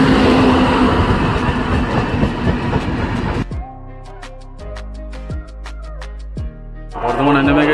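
An express train between Howrah and New Jalpaiguri rumbles loudly at first, then settles into quieter rhythmic clickety-clack of wheels over rail joints inside the carriage before the roar swells again.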